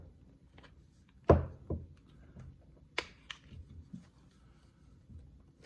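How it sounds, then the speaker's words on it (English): Glock pistol dropped into the plastic housing of a Recover 20/20 stabilizer kit, landing with a single sharp thunk followed by a few lighter clicks and taps as it settles, close and quiet. "Let's drop our Glock in here."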